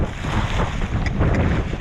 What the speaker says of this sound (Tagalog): Sobrang ano hangin talaga.